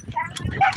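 A dog gives short, sharp yips and barks up close in a yard at a front gate, with people talking over them.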